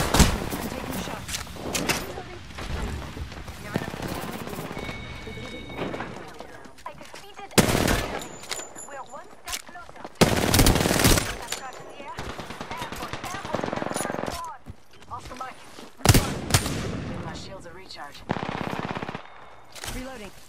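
Rapid automatic gunfire in the battle royale shooter Apex Legends, with repeated loud bursts and single shots spread across the scene amid in-game action noise.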